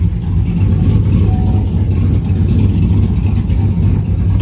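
A Chevrolet TrailBlazer SS on its first drive, its engine giving a steady, loud, low rumble heard from inside the cabin with no clear revving changes.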